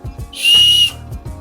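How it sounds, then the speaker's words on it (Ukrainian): A single sharp, shrill blast from a survival kit whistle lasting about half a second, loud and close, with faint handling noises before and after. "Зараз перевіримо свисток, свистить він чи ні"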